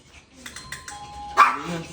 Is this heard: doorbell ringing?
yes